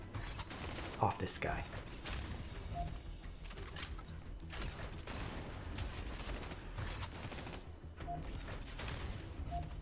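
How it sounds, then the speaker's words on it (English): Repeated blasts from the mech Frida in the turn-based game Mecharashi sound as a string of quiet, muffled shots under background game music, with a brief voice at the start. "Frida is just gonna trigger her load raid and blast like multiple times to finish"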